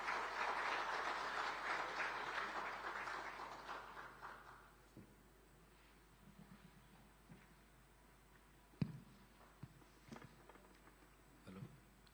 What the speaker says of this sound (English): Can we have a huge round of applause, ladies and gentlemen,